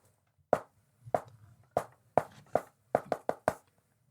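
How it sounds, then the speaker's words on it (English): Knocking on a door or window of a refrigerator, nine sharp raps in uneven groups, close and distinct over a quiet background. "they need to obviously do the knocking"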